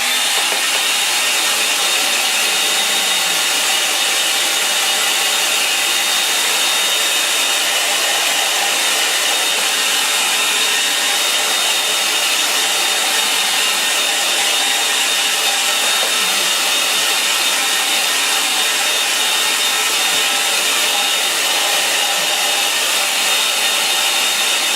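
A hair dryer blows on a snow painting, giving a loud, steady, unbroken whoosh and whine that runs close and alone for the whole stretch.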